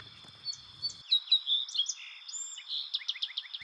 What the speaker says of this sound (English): And another song sparrow from Washington State.